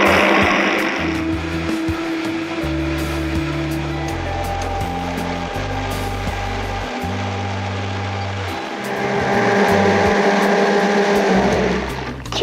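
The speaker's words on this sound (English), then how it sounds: "I'm going to blend, and I want it completely creamy without any, you know, sandy bits of the nuts" Vitamix blender running steadily at high speed, grinding nuts into a smooth cream, a loud continuous whine and roar with shifting motor pitch that swells near the end before cutting off.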